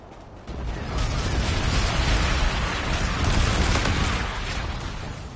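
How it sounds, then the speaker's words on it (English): Artillery bombardment in a war video game, a sustained barrage of heavy, rumbling explosions that kicks in abruptly after a quiet start and keeps pounding loudly with overlapping booms. "Enemy bombardment incoming."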